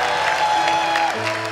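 Studio audience clapping on a TV singing talent show, a steady mid-level wash of applause with faint cheering running through.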